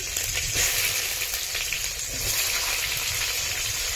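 Chopped onion and garlic fry in a pan for a village-style chicken curry, giving a close, loud, steady sizzle with faint bubbling texture throughout.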